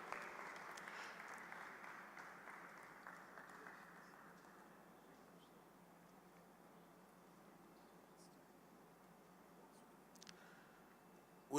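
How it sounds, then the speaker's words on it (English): Audience applause at a school Founder's Day ceremony, a faint, distant patter of many hands that fades gradually over several seconds into a quiet room. "Please, a round of applause for Restoration High School,"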